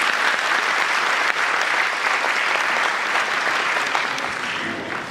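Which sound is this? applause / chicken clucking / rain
applause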